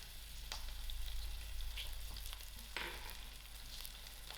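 Ginger, chillies and curry leaves fry in melting butter in a pan, giving a steady close sizzle with crackling pops and a few sharper spits throughout, no talking.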